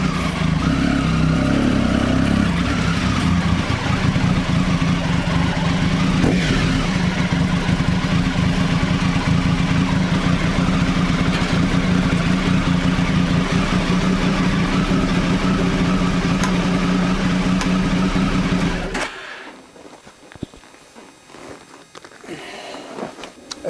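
A Triumph Tiger motorcycle engine runs loud and steady at close range for about nineteen seconds, then cuts off abruptly into near silence.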